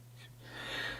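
A single sneeze, close and breathy, building from a short intake to a louder burst of air that lasts under a second.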